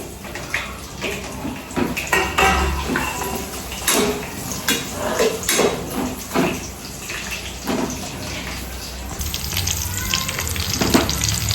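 Green chillies sizzle and crackle steadily in hot oil in a pan, with bursts of spattering and occasional stirring scrapes, close and continuous throughout.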